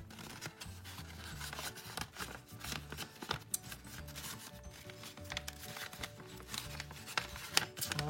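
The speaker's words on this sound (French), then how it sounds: "Hop, je remets dans l'enveloppe." Paper items, likely trading cards, being slid back into an envelope, giving a continuous close rustling and rubbing of paper with small crinkles and taps throughout, no talking.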